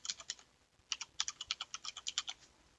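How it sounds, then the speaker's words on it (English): Rapid keystrokes on a computer keyboard as a server name is entered, a quick burst of close, crisp clicks after a short pause, with no talking. "So we'll type that in."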